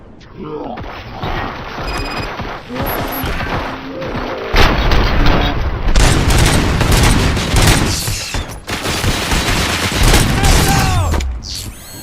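Heavy gunfire from RoboCop: Rogue City erupts in dense, rapid bursts and booms, loud and continuous for several seconds alongside mechanical clanks and game effects.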